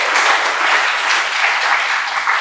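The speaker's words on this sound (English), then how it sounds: "let's give him a round of applause, please" A hall audience at a talk on stickers and society claps steadily, a loud, even wash of applause with no voices over it.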